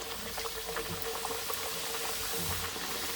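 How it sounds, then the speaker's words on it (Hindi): Papdi dough pieces fry in medium-hot ghee over a low flame, giving off a dense, steady bubbling sizzle that stays close and even for the whole stretch, with no voices. "हम लोग दरमियाने घी में अब इनको फ्राई करेंगे"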